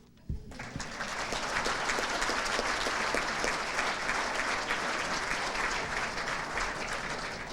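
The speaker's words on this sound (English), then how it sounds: "Harper right on cue back there with the cheering section" A hall of fame audience at a school athletics awards ceremony breaks into sustained applause and cheering that starts abruptly and holds at an even, dense level.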